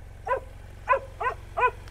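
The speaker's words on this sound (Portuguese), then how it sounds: "Foi só eu ligar a moto que ele começou a latir igual louco." A dog barks four times in quick succession just after a motorcycle is started at a fuel station in Argentine Patagonia, the sharp barks clear and fairly close over a steady low engine idle.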